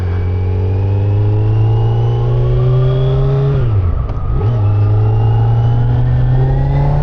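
2025 Kawasaki Z900 motorcycle pulling hard on the road, a loud, close engine note climbing steadily, dipping briefly through a gear change, then rising again under wind noise, with no talk.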